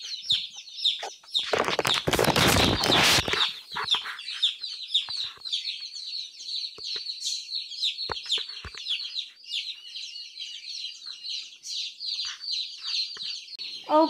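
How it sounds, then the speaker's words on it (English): Meat chickens in a coop cluck and chirp continuously, with a burst of loud flapping and scuffling near the start, then steady close clucking. "These here are the meat birds that I'm taking out."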